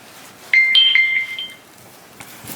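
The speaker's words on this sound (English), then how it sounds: "my phone is dinging." A smartphone notification dings with a bright two-tone chime for about a second, loud and close over a quiet room, then fades to near silence.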